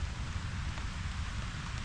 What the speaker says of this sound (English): Check out our fire despite this fairly heavy rain.